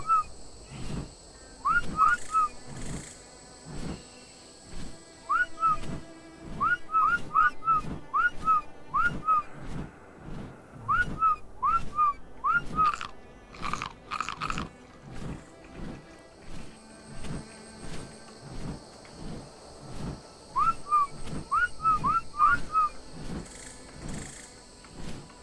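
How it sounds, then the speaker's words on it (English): A person whistles a repeated short melodic tune in bursts over a steady background of game ambience with rhythmic thuds, the phrases coming in clusters across the span, close and moderately loud. "Start whistling."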